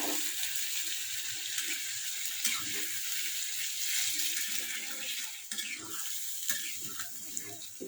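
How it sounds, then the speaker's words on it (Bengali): Water poured into a spice mixture in a cooking pan, producing a steady close splashing gush with a faint mechanical rattle partway through. "জলটা দিয়ে দেবো"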